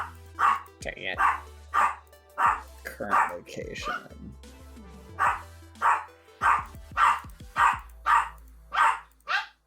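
Lucy the dog lets out a steady run of sharp, loud barks, about a dozen evenly spaced across the span, with a person talking in between and over them.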